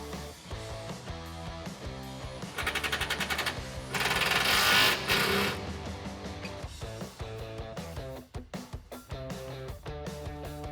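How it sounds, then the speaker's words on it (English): A socket tool rattles in hard, jackhammer-like bursts while tightening an exhaust isolator bolt with a 13mm socket on a 2011-2014 Ford F150 3.5L EcoBoost fitted with a Pypes exhaust. Two loud sustained runs are followed by shorter stuttering hits, all close up. "then we can tighten that down with a 13mm socket"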